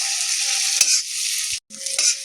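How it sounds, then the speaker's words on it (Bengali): Vegetable peels being stirred together with a sesame and peanut paste in a pan, a continuous soft hiss and scraping with a brief pause near the end before resuming. "তিল আর চীনাবাদামের বাটাটার সাথে আমি সমস্ত সবজির খোসাগুলোকে ভালো মতো করে মিশিয়ে নেব"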